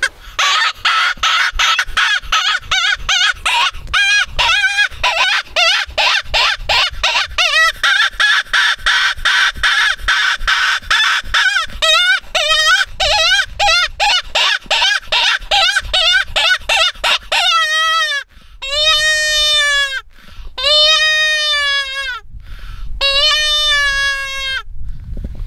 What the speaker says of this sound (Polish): No i tu mamy już chyba najgłośniejszy wabik na rynku. Pokażę wam, jak tym wabimy.